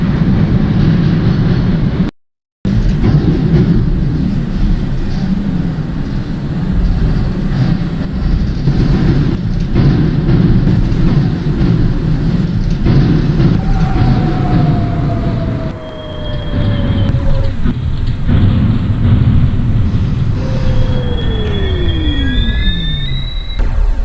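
NYC Subway R62A train in the OpenBVE simulator, a loud continuous rumble of wheels and motors running throughout, with a short dropout early on, then rising and falling whines and squeals as the train slows.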